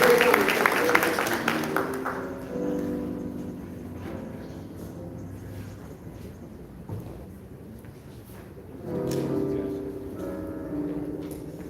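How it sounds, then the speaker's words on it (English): Applause for a city mayor opens loud and dense, then thins out while a sustained musical or tonal sound carries on underneath, swelling again near the end. "Let's give our mayor a round of applause"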